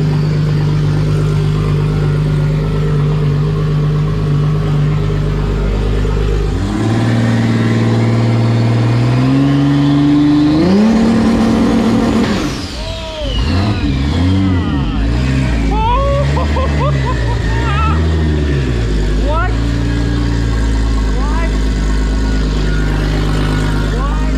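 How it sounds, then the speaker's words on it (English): Drag car on a dyno with a TH400 transmission, held on the trans brake with nitrous, loud and close: the engine idles roughly, then revs climb in steps, followed by repeated sharp bursts of throttle. "This is going to be the car's first time going on the trans brake with nitrous."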